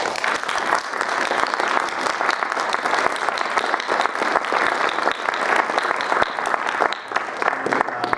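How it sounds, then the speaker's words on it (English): University audience applauding panelists at the close of a panel discussion, dense sustained clapping from a full room, loud and continuous for several seconds. "I'd like again to thank all of our panelists and ask for another round of applause"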